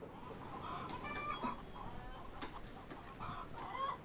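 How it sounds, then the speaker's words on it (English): Hens and ducks on an Irish farm cluck and call in short bursts, moderately close, against steady outdoor background noise. "now I use it for holding hens and my ducks and things"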